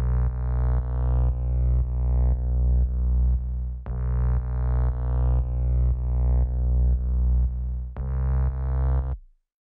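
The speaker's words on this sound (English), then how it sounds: "So the bass line is very simple, just following the root notes of the chords" Simple synth bass line from a saw-wave 3x Osc patch in FL Studio, following chord root notes: repeated sustained notes with steady rhythmic retriggers and filter envelope sweeps, loud and alone, ending abruptly.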